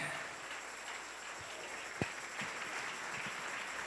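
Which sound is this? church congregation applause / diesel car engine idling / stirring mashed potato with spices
church congregation applause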